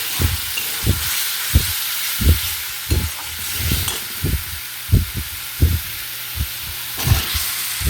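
Fried jackfruit and potato tipped into hot spiced oil for a vegetarian curry: a steady hiss of frying under a series of regular, low thumping stirs of the spatula against the pan, with no talk.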